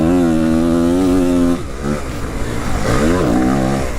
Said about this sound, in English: This bike, it also sounds a bit weird, you know